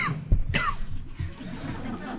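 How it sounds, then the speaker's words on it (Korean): A man coughs a few times in short, close bursts during an indoor conversation about coffee, with faint murmurs and brief laughter around the coughs. "제가 이렇게 보통 기침할 땐"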